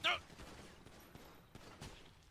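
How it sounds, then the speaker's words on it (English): Police open fire in a GTA 5 roleplay game, with rapid, sharp bursts of shots. The gunfire is quiet and thin and comes in several clusters over a couple of seconds. "75 shots fired, suspect down"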